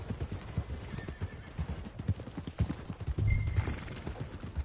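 In a video game, a horse's hooves clip-clop in an uneven walking rhythm, followed by a clear, fairly close neigh; no one speaks over it.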